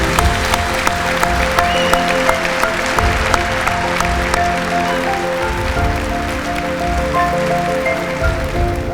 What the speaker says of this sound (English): Would Miss Willie Mae Jones of Bath County please stand up so we can give you a big round of applause?